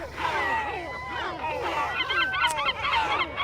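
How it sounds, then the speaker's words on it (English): Cormorants in a nesting colony call out warning signals, a dense cacophony of overlapping harsh, honking croaks from many birds at close range. "all of these birds sending out a warning signal."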